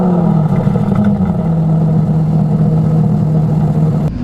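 An Aston Martin DB11 engine fires and settles into a steady, loud mid-pitched idle with a deep throb that holds unbroken for several seconds before cutting off sharply at the end.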